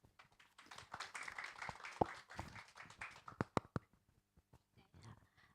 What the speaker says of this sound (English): let's welcome Banadam with a round of applause